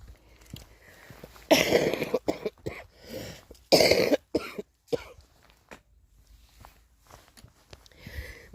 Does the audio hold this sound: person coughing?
yes